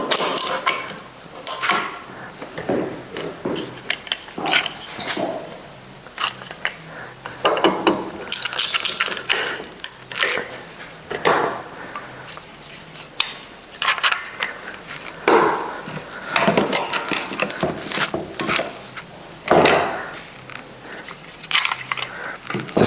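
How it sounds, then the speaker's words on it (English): Clamps being tightened one after another while gluing a fretboard onto a neck-through guitar neck, a steady run of close ratcheting, creaking and clicking mechanical sounds in irregular bursts with no talking. "we'll just go ahead and start clamping"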